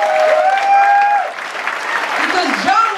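Sustained applause fills the Laugh Factory comedy club during a Joan Rivers tribute night, a loud, even wash of clapping from the crowd with voices calling out above it.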